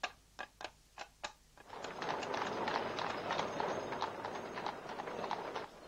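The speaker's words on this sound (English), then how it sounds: "I've decided I like horse-drawn transport." Carriage-horse hooves on a street in Aberdeen give five or six sharp, distinct clip-clops, then give way to a steady, louder wash of rumbling wheels and street noise.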